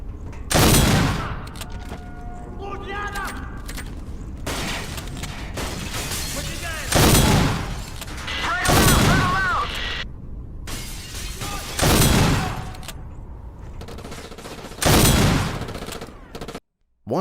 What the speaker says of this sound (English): The Remington 870 delivers nice, explosive-sounding shots.